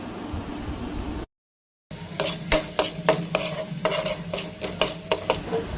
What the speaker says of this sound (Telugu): మనం కడిగి పెట్టుకున్న కీమా వేసి బాగా వేగనివ్వాలి.